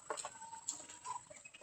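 Chicks in a brooder give a few faint, scattered peeps and soft clucks in short, irregular bursts over low background hiss, with no talking.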